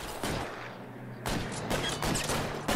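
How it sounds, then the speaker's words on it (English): Gunfire in the video game LA Noire: a dense burst of shots with a sustained rumble, then a second louder volley of repeated cracks, heard at middle distance. "He's still actively shooting."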